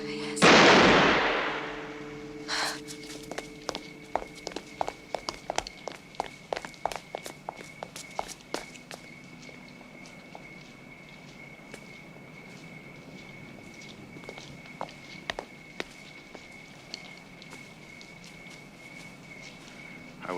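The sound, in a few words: footsteps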